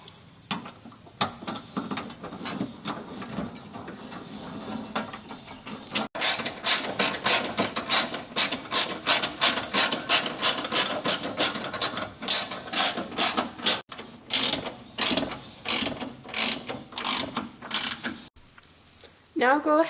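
Bolts on a Jeep JK body-mount tire carrier are tightened with a 3/16 Allen wrench, producing long, rapid runs of close ratcheting clicks with brief pauses between them.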